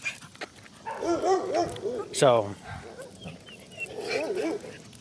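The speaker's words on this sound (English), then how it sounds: "there's a dog just a little distracting" A dog barks and yips nearby, with a sharp bark midway among whining, yelping calls, while a person speaks over part of it indoors.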